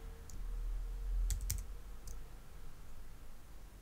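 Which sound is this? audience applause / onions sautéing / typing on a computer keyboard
typing on a computer keyboard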